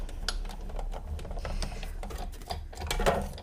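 A die-cutting machine running a piece of cardstock through to cut a frog's eye: a steady mechanical grinding hum with rapid ticking clicks, close and alone.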